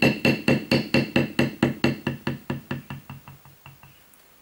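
A Barry King leather beveler tool is struck with a hammer while being stepped across leather, about eighteen evenly spaced sharp knocks that gradually fade, close and clear with no talking.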